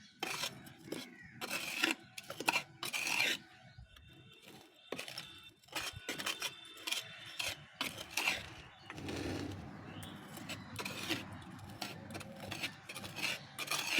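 A hand tool scrapes and chops at soil around the base of a lemon tree, clearing weeds in short, irregular bursts of rasping strokes, close up, with a person talking between them.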